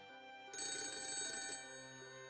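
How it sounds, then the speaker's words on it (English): A cell phone rings on a table at a family home, a single loud burst of bright trilling that cuts in abruptly, lasts about a second, then fades into quiet room tone. "my cell phone, sitting on the table, started ringing"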